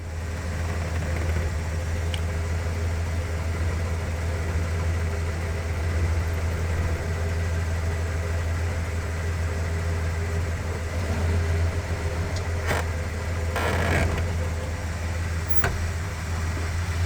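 A Plymouth Fury engine idles in a steady, continuous low rumble with constant loudness, joined by a few brief sharper knocks or clanks near the end.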